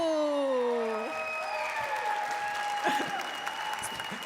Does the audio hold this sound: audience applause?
yes